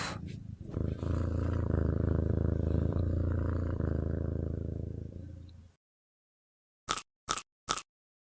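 A cat purrs loudly and steadily up close for several seconds, a low rhythmic rumble, then silence followed by three brief sharp taps.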